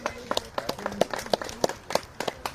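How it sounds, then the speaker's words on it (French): Sharp, scattered hand claps from a few people at a carp fishing competition, irregular and fairly close, with some speech mixed in. "J'applaudis pour toi."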